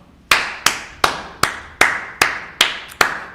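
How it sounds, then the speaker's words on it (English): A single person claps eight times at a steady, slightly quickening pace, each clap sharp and close with a short ringing decay, and no one talks. "have to clap it up"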